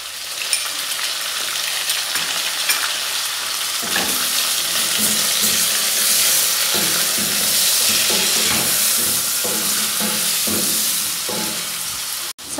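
Two tablespoons of ginger garlic paste sizzling in a pan for Hyderabadi chicken biryani, a loud continuous frying hiss with scattered stirring scrapes and clinks throughout and no voices.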